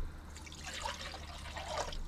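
Water trickling and splashing as it is poured into a Jetboil camping stove for cooking, a quiet, uneven stream at close range with no talking.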